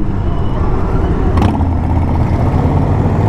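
A 2020 Indian Challenger motorcycle engine runs while being ridden, a loud, steady low rumble with constant wind roar and a brief rattle midway, close and unbroken.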